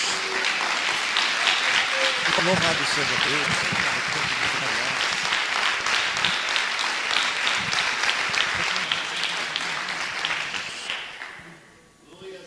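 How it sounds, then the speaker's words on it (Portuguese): Sustained applause from a church congregation during a worship service, filling nearly the whole stretch before tapering off near the end, with a voice speaking briefly over the clapping. "Dê uma salva de palmas a Jesus."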